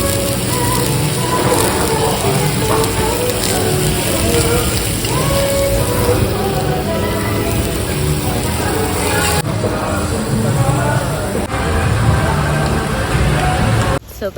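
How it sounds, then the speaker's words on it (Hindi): Heavy rain pours down in Pattaya, a loud, steady hiss of drops hitting surfaces that fills the whole stretch without a break. "बहुत बारिश हो रही है आज"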